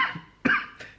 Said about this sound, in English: it's by time I'm starting to cough, and I will cough for a good time